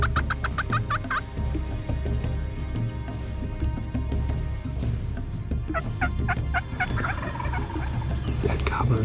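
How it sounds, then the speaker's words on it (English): Two big wild turkey gobblers on a ranch road gobble repeatedly in loud bursts, joined by clucks and other turkey calls over steady outdoor background noise. "2 big boss gobblers coming down the road"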